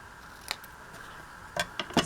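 Scissors snipping through a bordered paper piece at a craft desk, a faint isolated snip followed after a pause by a few quick close cuts.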